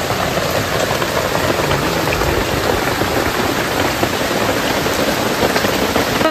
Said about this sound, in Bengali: মানে প্রচণ্ড বৃষ্টি, আওয়াজও হয়তো মোবাইলে অতটা শোনা যাবে না,